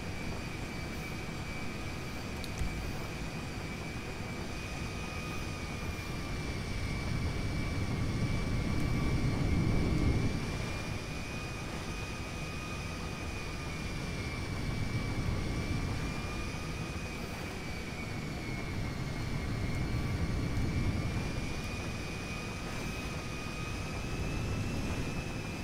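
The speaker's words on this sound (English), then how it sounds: "Taxi to runway 1 for departure." An airplane in GTA 5 taxiing toward the runway, a steady engine drone with a thin high whine, its low rumble gently swelling and easing, heard alone without talk.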